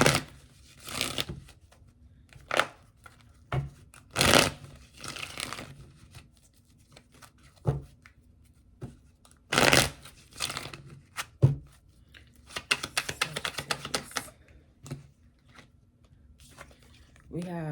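Tarot cards are shuffled and laid out, with a string of soft papery slaps, riffles and brushing sounds in irregular bursts, some sharp and close, under occasional talk.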